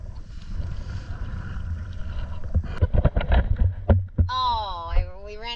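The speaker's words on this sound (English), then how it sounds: "Too shallow, so now we're all paddling." Several people paddle a boat through too-shallow water off Great Harbour Cay in the Berry Islands, Bahamas, with wind buffeting and splashy paddle strokes building in the middle, then a voice near the end.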